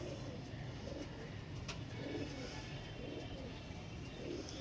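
Soft, repeated cooing of pigeons at a distance, low and muffled beneath a steady rumbling background noise.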